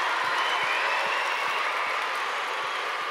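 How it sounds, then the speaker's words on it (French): A conference audience at a mountains-and-science gathering breaks into sustained applause, a dense, even wash of many hands clapping that holds steady for the whole stretch with no voices on top. "Je crois qu'on peut applaudir Rachid pour cette énergie."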